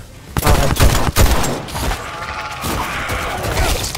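Loud, rapid gunfire from the video game Dead Island 2 fills the opening seconds in dense bursts, then gives way to a softer, steady background of game sound effects.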